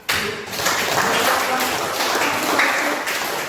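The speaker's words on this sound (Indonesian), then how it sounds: "Ya, baik, tepuk tangan." A classroom of students claps together, a brief, bright burst of fairly loud, dense applause lasting a few seconds.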